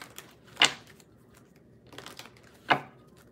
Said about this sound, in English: Let me open up these blinds.